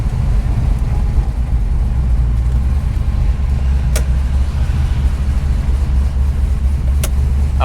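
1965 Dodge Coronet engine idling with a lumpy cam, a loud, steady low rumble with a choppy beat that holds throughout, with a couple of faint clicks over it.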